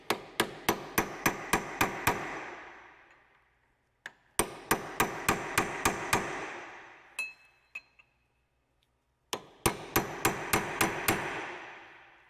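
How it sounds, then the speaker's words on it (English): A hammer strikes a chisel to stake a Toyota axle nut, ringing metallic taps in three quick volleys of about six blows each, close and sharp, with a few faint clinks between. "You're just going to put a chisel right here."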